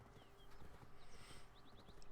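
Horse hooves in the Black Desert video game clip-clopping in a quick steady rhythm, close and clear over a constant background bed of game ambience.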